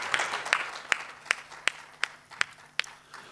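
Sparse, evenly spaced handclaps from a seminar audience, about eight sharp claps roughly 0.4 seconds apart, fairly faint and thin like a few people clapping in a room, with no talk.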